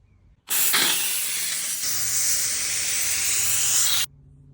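A Karcher SC1 EasyFix handheld steam cleaner lets out one loud continuous hiss of steam lasting about three and a half seconds, starting and stopping abruptly against a quiet background.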